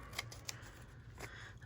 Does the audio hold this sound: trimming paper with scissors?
yes